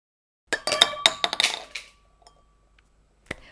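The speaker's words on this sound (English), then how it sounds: "Now I will flick the plate with my finger with one clean motion." A plastic plate flicked off the top of a glass sends a quick burst of close, bright clinks and rattles, then a ball drops into the glass, followed by a few faint ticks and one last small clink.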